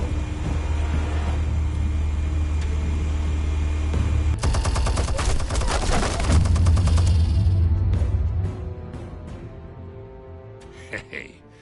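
Explosives and weapons firing in Batman: The Telltale Series, a loud rapid rattling burst rising over a low rumbling drone, then fading to scattered distant pops and quiet, with voices speaking.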